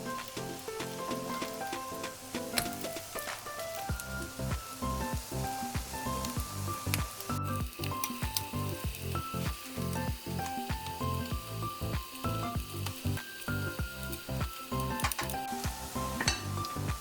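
Tuna patties sizzle steadily in a hot frying pan while utensils clink and scrape against the metal as they are turned, a busy close-up crackle with repeated sharp metallic taps.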